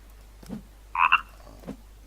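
A frog in the survival game The Forest gives a short double croak, clear and close, between quiet low knocks against a steady low hum.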